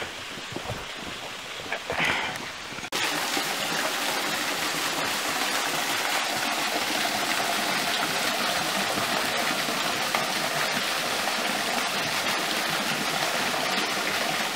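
Water from a waterfall and stream in the woods rushes in a steady, loud, broadband roar that jumps up abruptly after a quieter opening and then holds constant to the end.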